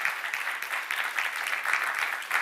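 A church congregation applauds steadily throughout, a dense, even wash of many hands clapping with no pauses, fairly close and filling the room.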